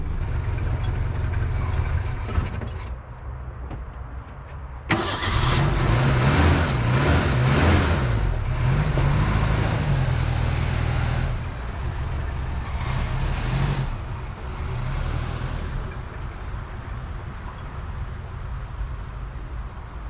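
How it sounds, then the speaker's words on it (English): An old, long-abandoned 1973 Ford Pinto Squire wagon engine running rough, a low steady rumble that surges louder partway through, then settles back into an uneven idle. "The engine's not running perfectly, but it is running."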